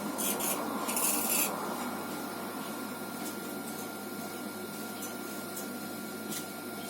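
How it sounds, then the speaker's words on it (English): Quiet, steady rubbing and smoothing of clay on a small handmade teapot, with soft scraping textures and a few brief brighter hisses near the start. "Get rid of all the excess clay and make it smooth."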